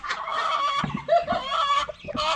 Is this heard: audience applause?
no